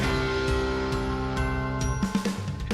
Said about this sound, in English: Sleigh bells ringing here on the Daily Tip